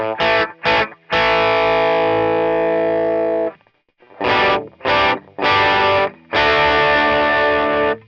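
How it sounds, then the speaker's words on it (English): Electric guitar played through a Vox AC30 amp with a distortion pedal engaged, thick sustained chords in several bursts with short choppy stabs and brief silent gaps between phrases, loud and upfront. "that's the AC30 by itself, and then if you turn on the pedal"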